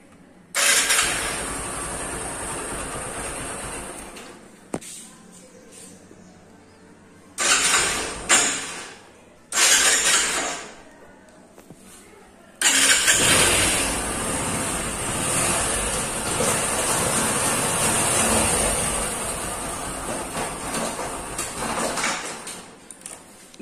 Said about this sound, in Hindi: यह मोटरसाइकिल है भाई अपनी, स्लप मार कर दिखा